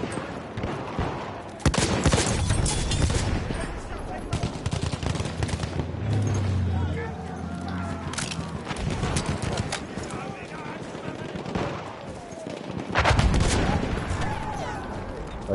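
Rapid gunfire from the World War I shooter RSC 1918, with loud repeated bursts and single shots, near and distant, over ongoing chatter from several players.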